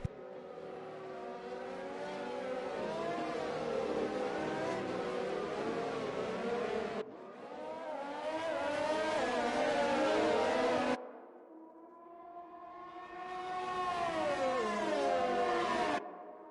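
Formula 1 cars racing at the Belgium Grand Prix in an F1 video game, loud engine whines sweeping up and down through gear changes, cutting out abruptly twice and resuming with rising revs, no talk.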